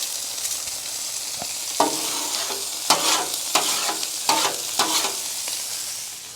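White onions caramelizing in a pan for a patty melt sizzle steadily up close, broken by a run of sharp scraping spatula strokes, with no voices.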